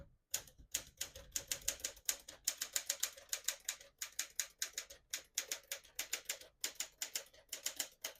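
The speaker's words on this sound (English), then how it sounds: "I'll type a sentence on the next line." Brisk typing of a sentence on a 1956 Smith-Corona Silent-Super portable manual typewriter, rapid bursts of crisp key strikes with brief pauses between words, close up and uninterrupted by voices.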